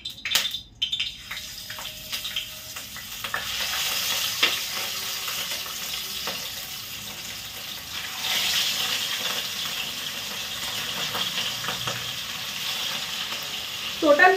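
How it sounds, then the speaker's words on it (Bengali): Five thick pieces of fish fry in hot oil, making a continuous hissing sizzle that grows a little louder halfway through, with occasional light knocks and a voice faintly in the background. "টোটাল 5টা পিস মাছ দিয়ে দিয়েছি, ভাজা হবে"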